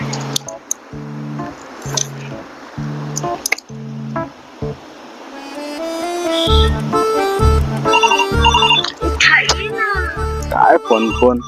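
A phone ringtone plays a bright, repeating electronic melody that swells loud and close in the second half of a horror short film scene, after people talk over soft tonal beeps.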